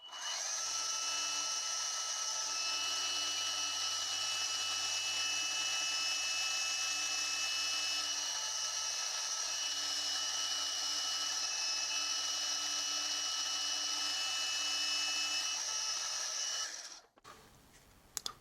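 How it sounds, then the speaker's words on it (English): A power drill bores holes into an aluminium bar held in a vise on a milling setup, a continuous loud whining drone with steady tones that runs unbroken for about seventeen seconds and then stops abruptly. "now I'll just drill the 3 holes using the hole pattern"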